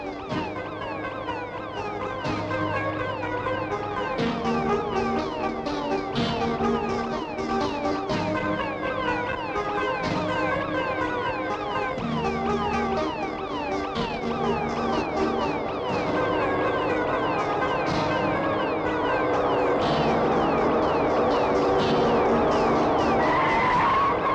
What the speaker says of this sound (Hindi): वासु, उस गाड़ी को ओवरटेक करो।